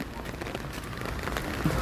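Rain falling at a Buddhist temple with a golden-topped stupa in Thailand, a dense, steady patter and hiss with a faint voice murmuring underneath.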